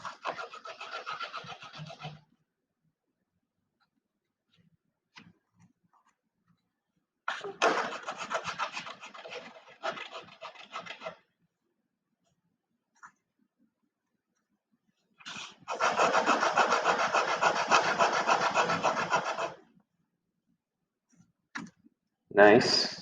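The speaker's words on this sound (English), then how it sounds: "Let's sand these for fit." Pieces of a corner section being hand-sanded for fit, scratchy rubbing strokes coming in separate bursts with quiet gaps, the longest spell steady and dense, close and moderately loud.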